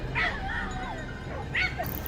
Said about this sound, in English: The dogs barked furiously from within the brush